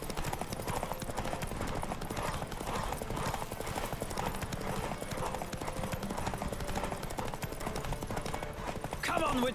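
Galloping horse hooves in The Witcher 3, a fast continuous clip-clop that stays steady throughout, with game voices talking over the hoofbeats.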